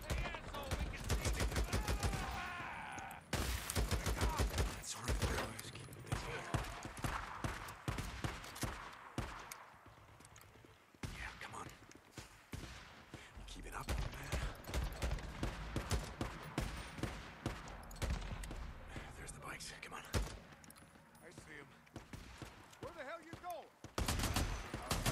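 Gunfire in Days Gone rattles almost nonstop in loud, rapid bursts and volleys, briefly easing near the middle before picking up again, with a voice talking over it at times.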